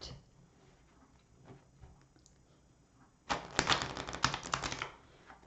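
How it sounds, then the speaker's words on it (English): A tarot card deck being shuffled, with a quiet start giving way after about three seconds to a close, fast burst of riffling card clicks and flutters. "I'm just going to do 2 more hard shuffles and 3 soft."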